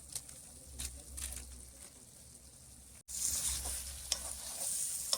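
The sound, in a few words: spices being mixed into goat meat by hand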